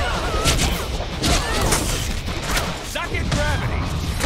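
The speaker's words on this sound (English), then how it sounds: "I am shooting you!" Deadpool fires guns in the PS4 video game, a series of sharp, rapid gunshot bursts and impacts repeating over busy, loud action noise.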